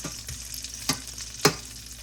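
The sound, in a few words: burgers frying slowly in a pan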